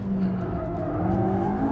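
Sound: McLaren 675LT sports car driving fully sideways

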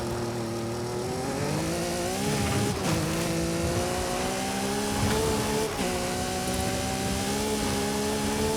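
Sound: car engine revving in video game Forza Horizon 5

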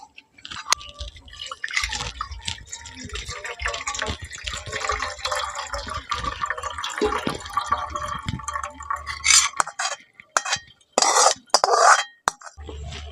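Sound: straining chhana (curdled milk) through cotton cloth in a strainer

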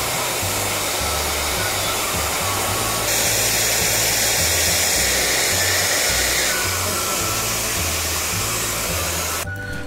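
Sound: hair dryer heating shrink motorcycle grip

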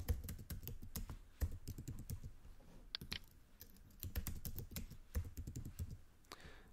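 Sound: typing a password on a computer keyboard

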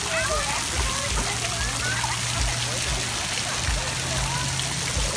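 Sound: children running through sprinkler water splashing

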